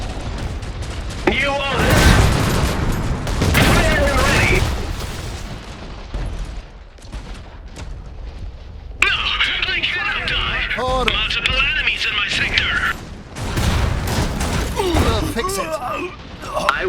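Gunfire and explosions in the game Iron Harvest, with bursts of shooting and booming blasts mixed with mechanical clatter, while voices talk over the battle throughout.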